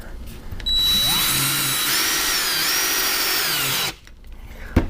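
Power drill driving a screw into wood through a pilot hole, a close, loud whine rising and bending in pitch for about three seconds before cutting off abruptly, followed by a faint knock.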